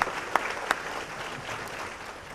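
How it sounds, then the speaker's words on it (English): A ceremony audience at the 2016 Golden Apple teacher awards applauds, a few sharp claps standing out at first before the clapping settles into a softer, fairly distant patter that fades off. "Let's give all of them a round of applause."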